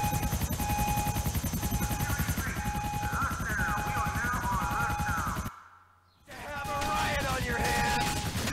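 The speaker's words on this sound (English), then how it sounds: "That's a lot of helicopters." Helicopters throb overhead in the GTA 4 video game, a loud rapid rotor chop mixed with gunfire, cutting out briefly before returning, with a voice talking over it.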